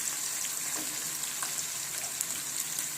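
Onions frying in oil for biryani, cooking until golden, give a steady, soft crackling sizzle with faint scattered pops throughout, no voices.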